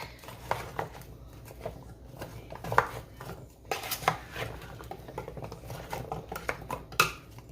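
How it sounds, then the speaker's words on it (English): A spoon stirs powdery ingredients mixed with water in a bowl, scraping and clinking against the sides in irregular close taps and rubs, with no talking. "Just gonna stir it all together to get all the powdery stuff wet."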